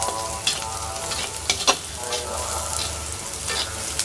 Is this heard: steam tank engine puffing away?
no